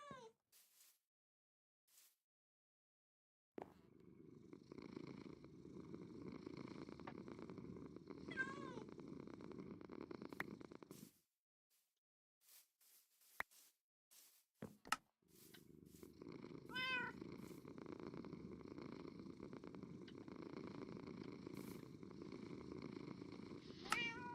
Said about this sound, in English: that looks like you're petting the cat when you do that.